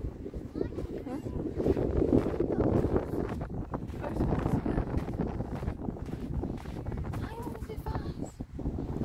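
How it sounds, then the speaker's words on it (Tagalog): Steady gusting wind buffets the microphone outdoors by the sea at Skegness, a continuous low rumble with no clear talk. "Sarap ng hangin."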